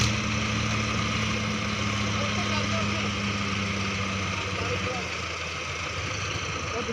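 A Mahindra 655 tractor hitched to a trolley idles close by with a steady, rumbling diesel throb and a low knocking pulse that holds through the whole clip, its tone dropping slightly near the end.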